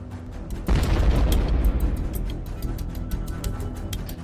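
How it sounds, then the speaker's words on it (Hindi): A small shuttlecock-style grenade dropped by a drone onto a tank in the Russia-Ukraine war bursts with one deep, booming blast that rumbles and slowly fades over several seconds. "छोटा ग्रेनेड छोटा धमाका करता है।"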